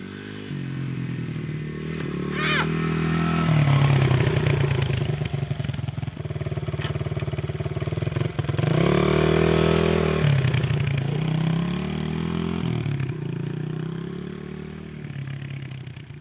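A $500 budget pit bike dirt bike starts up and revs, its small engine buzzing loud and close, rising and falling through several throttle blips before settling.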